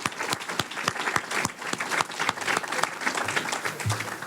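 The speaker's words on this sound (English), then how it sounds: "how about a round of applause for our moderator" A forum audience claps for the moderator, a few seconds of brisk, evenly spread applause at moderate loudness, with faint murmurs underneath.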